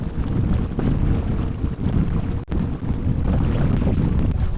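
A motorboat runs across a lake in a Texas state park, its engine a low rumble buried under heavy wind buffeting on the microphone, loud and continuous with brief gusty dropouts.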